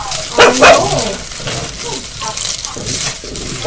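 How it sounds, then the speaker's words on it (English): A dog barks a few times in short bursts at moderate distance, mixed with some background clatter and movement. "Heidi, stop barking."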